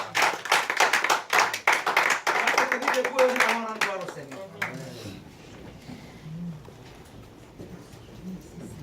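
A church congregation at a Friday night prayer vigil claps in a dense burst for about five seconds, with voices calling out beneath it. The clapping then stops and leaves quieter room murmur.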